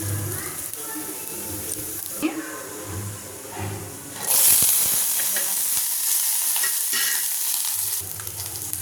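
Urad dal and cumin frying in hot oil, a steady sizzle that jumps into a louder, hissing burst midway as the cumin goes in, with occasional stirring scrapes and speech at the start.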